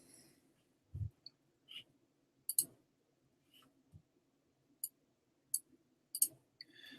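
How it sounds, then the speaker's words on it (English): A few sharp, faint mouse clicks made while working in Google Docs, spaced irregularly in a quiet room, with a low thump near the start. "you can click it, it'll attach it"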